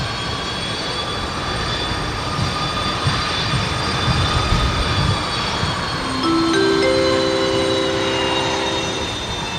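An aircraft on final approach to Brisbane Airport during cyclone weather, its engines a steady, moderately loud drone with a rising whine of tones near the end, and no voices.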